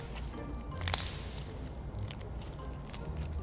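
Slime hardened with sand being squished and pressed by hand, giving a close, continuous gritty crackle with a few louder crunchy pops.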